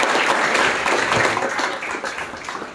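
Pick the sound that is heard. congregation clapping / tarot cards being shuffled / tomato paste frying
congregation clapping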